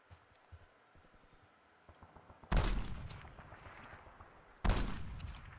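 Two loud, sudden gun blasts with long decaying echoes ring out in Call of Duty Warzone, following a quiet stretch of soft tapping footsteps.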